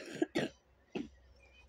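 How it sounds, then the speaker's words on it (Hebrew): A woman coughs three times in short, sharp bursts, two close together and then one more after a pause, fairly close and with no talking. "סורי, אני משתעלת."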